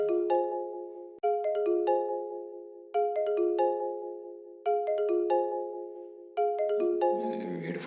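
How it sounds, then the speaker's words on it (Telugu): A mobile phone rings with an incoming call, its short melodic ringtone repeating about five times at a steady rhythm, clear and moderately loud, with a noisy rustle at the very end. "నెంబర్ నుంచి కాల్ వస్తుంది."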